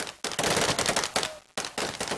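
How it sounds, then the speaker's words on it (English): Celebratory gunfire in Libya after the dictator's death, loud rapid automatic bursts in three volleys separated by short pauses, close and echoing. "Libyans greeted the death of the dictator with celebratory gunfire"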